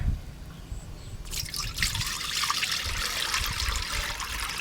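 Thin pandan custard mixture trickles and patters steadily through a sieve into a bowl, a continuous close liquid dribble that grows fuller partway through, with no talking.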